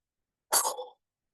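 A single forceful breath is pushed out like a cough, one short close burst of air with a rough, throaty edge, alone against silence.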